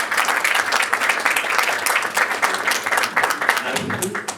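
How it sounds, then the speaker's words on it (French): A festival award ceremony crowd claps loudly and continuously, a thick wash of applause, with a voice speaking over it near the end. "On l'applaudit bien fort, s'il vous plaît."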